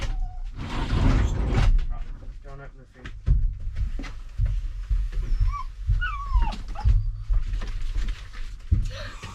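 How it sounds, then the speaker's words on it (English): A puppy whimpers and yips in thin, high, wavering cries amid rustling and thumping movement, with people talking over it nearby. "It isn't a fan, this is the puppy"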